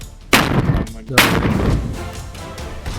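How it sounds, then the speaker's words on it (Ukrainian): Artillery fire in the wartime video game Foxhole: two loud, sharp booms close together, each one followed by a rumbling decay, with fainter distant blasts trailing off afterward. "наша артилерія успішно почала працювати по позиціям противника"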